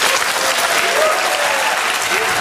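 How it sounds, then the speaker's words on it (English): Loud, dense applause from a studio or radio audience, a continuous wash of clapping close at hand, steady and unbroken throughout. "Listen to that. Round of applause."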